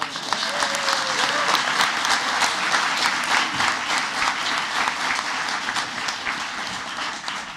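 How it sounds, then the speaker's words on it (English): An audience at a school district board of education meeting gives sustained applause. The clapping is dense and steady, with a faint murmur of voices underneath, fading slightly toward the end. "Let's give them one more round of applause."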